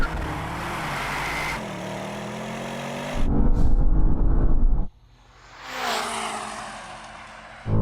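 A BMW M8, Porsche Panamera GT and Mercedes-AMG GT drag race from a standing start, engines roaring loudly together, swelling in a hard burst of acceleration, cutting off abruptly, then a fainter engine rising and falling again.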